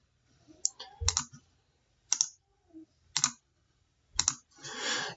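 Mouse clicks in OrCAD schematic software, heard as five separate bursts of sharp close clicks spaced about a second apart, followed by a brief hiss of noise.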